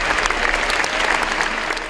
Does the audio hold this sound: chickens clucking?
no